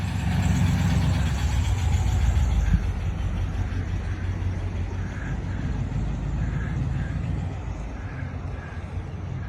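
A 1955 Ford station wagon's engine runs steadily at a low, even idle, a constant rumble heard from nearby without speech.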